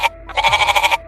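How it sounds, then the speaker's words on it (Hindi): A goat in a Hindi folk story bleats close and clear, a short cry followed by a longer wavering, pulsing bleat, loud and alone with nothing else heard. "बकरी बोली।"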